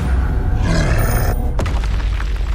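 A Confringo fire spell bursts in the video game Hogwarts Legacy: a single sharp explosive boom with a crackling tail, set against a steady background of game noise.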